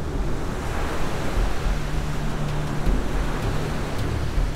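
A steady, loud roar of a fast, high river current fills the whole clip, broad and continuous with no pauses.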